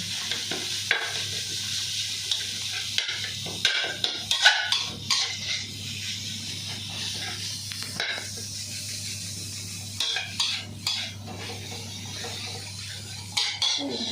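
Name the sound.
stir-frying in a pan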